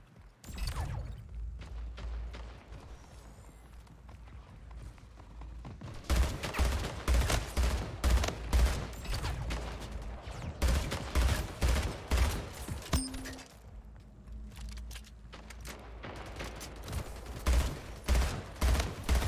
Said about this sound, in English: use the battle rifle.